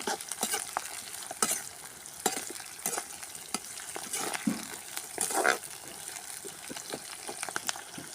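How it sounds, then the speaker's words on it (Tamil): Garlic sautés in hot oil with rock salt in a village kitchen, giving a steady close sizzle broken by repeated scraping stirs and clinks of the spoon against the pan. "நல்லா எண்ணெயிலே கறந்து நல்லா வதங்கும்"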